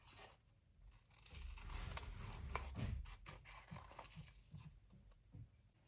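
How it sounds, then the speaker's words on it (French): Scissors trim surplus paper from a scrapbooking craft project in a series of quiet, crisp snips and rustles, close up and with no talking. "Donc je vais couper le surplus."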